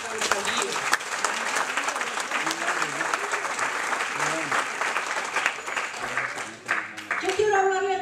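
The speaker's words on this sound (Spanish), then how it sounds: "Denle un aplauso a Dios." A church congregation bursts into sustained applause during a sermon, a broad clapping crowd with some cheering voices mixed in, thinning near the end as a speaker's voice comes in.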